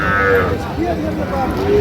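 A cow moos loudly nearby, a drawn-out low call over a busy outdoor crowd murmur at Ambari cattle market in Dinajpur.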